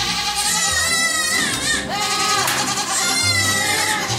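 Dwarf goats bleat indoors in a house, loud wavering cries overlapping one another close by, with faint background noise.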